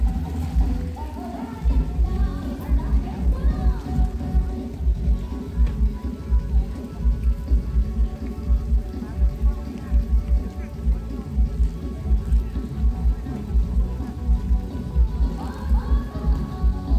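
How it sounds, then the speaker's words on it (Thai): Steady rain falls during fish catching at a village pond in the rainy season near Lom Sak, Thailand, a broad wash beneath a pulsing low rumble that runs throughout the clip. "ก็เป็นบรรยากาศฝนตกนะครับ"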